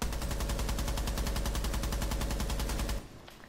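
A continuous full-auto burst from a rifle in Rainbow Six Siege, fired without recoil control, rapid and evenly spaced for about three seconds before stopping abruptly.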